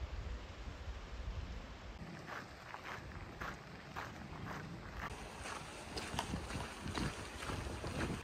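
Wind gusts steadily across Silver Pass Lake, high on the John Muir Trail, on a cold, cloudy day, a broad rushing noise that buffets the microphone with rhythmic surges and no voices.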